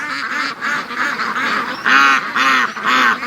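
Domestic ducks and geese honk loudly near a lake, with repeated strong calls in bursts, the last few louder and closer, and no talk.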